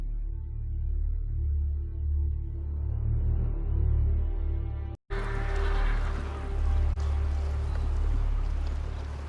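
A boat moving on water in the video game Game of Thrones, heard as a steady low rumble with water washing and sloshing, continuous and fairly close, with one brief dropout partway through.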